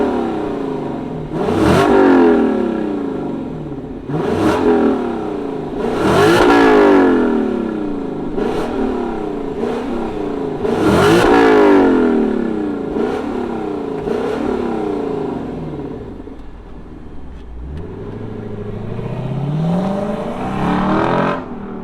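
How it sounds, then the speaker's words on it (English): A 2024 Lexus LC500 Bespoke Edition V8 fires up and revs hard in repeated loud bursts, each rising sharply then falling back, with a rougher rumble and a lower swell near the end and no talk. "Let's fire it up and let this LC500 be heard."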